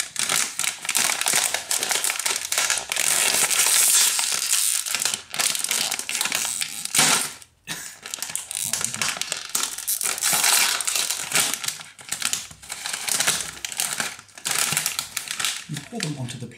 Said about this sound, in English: Now, slowly open the crisps.